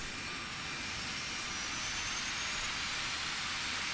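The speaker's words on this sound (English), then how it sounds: "Little baby turbofan." An Embraer E-Jet's small turbofan engine spools up in a flight simulator add-on, giving a steady, loud, broad rushing roar with a thin high whine running through it, with no voices.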